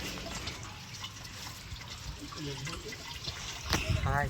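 Water trickles down from above and splashes steadily nearby on a trek at Gambhirgad fort, with faint voices in the background.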